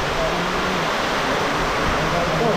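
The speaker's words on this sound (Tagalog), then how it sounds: "Unang ulan simula nung October" Steady broadband hiss of heavy rain falling, the first strong rain after a months-long dry spell, continuous and fairly loud throughout, with no voices.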